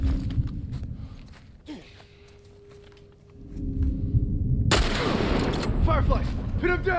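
Hunting rifle fire in The Last of Us: a few sharp shots and clicks early on, then a loud burst of gunfire and crackling impacts near the end, with faint voices mixed in.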